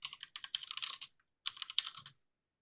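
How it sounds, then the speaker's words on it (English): Typing a note on a computer keyboard: two bursts of rapid, close key clicks with a short pause between them, then silence. "So we'll start typing a note here"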